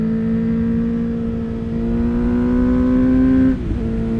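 A 2023 Honda CBR 650R motorcycle holds a steady, loud, tonal engine whine while riding, then drops sharply as the rider shifts gear.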